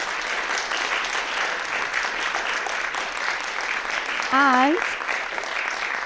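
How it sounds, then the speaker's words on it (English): Audience applause for the panellists at a civic debate on the future of Durham, a steady broadband patter of clapping across the whole stretch, with a brief spoken word and a short tonal sound near the end. "Please can we give them a round of applause?"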